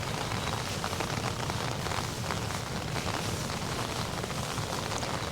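Steady rain falls in a garden, a dense even hiss of drops on leaves and surfaces, continuous and close with no other sounds.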